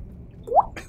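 A Dungeons & Dragons game master makes a dripping sound with their mouth, imitating a drop of water. The drip is a single bright, close plop with a rising pitch, followed by a short soft splashy tail over quiet room tone.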